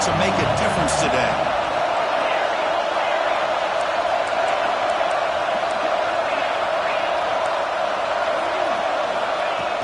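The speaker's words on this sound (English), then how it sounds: "this home crowd is fired up and ready to make a difference today" A fired-up home crowd roars steadily through a college football game between OSU and TT, a dense sustained wall of noise with a few whoops and a sharp bang near the start.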